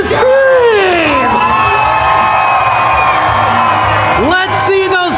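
A monster truck championship crowd screams and cheers loudly in an arena, a sustained roar of whoops and shouts with children's shrieks, while an announcer's amplified voice carries over it.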